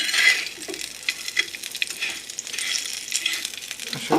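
Potato chips and french fries frying in a hot wok, with a close, steady, crackling sizzle of oil and a few soft clinks, heard alone without talking.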